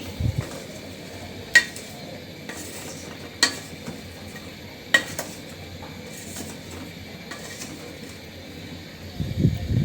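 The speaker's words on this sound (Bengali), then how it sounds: "আমি এই সবজিটা কষানো মশলাটার ভিতরে দিয়ে দিলাম।" Vegetables for a bitter gourd and eggplant curry stirred into cooked spice paste in a pan, with a low background sizzle and a few distinct spatula clinks against the metal, close but fairly quiet.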